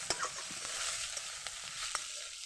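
Soft tomatoes with salt and turmeric sizzle in a pan, a steady hiss of frying broken by light scraping strokes as the mixture is stirred and spread, close up, with no voices.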